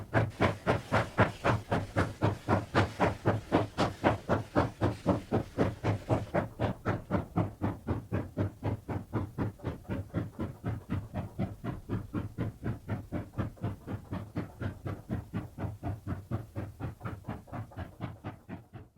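A single steam locomotive hauls a loaded coal train from a Sandaoling mine toward Nanzhan, its exhaust beating in a steady, rapid rhythm with hissing steam, loud and close throughout, gradually quickening.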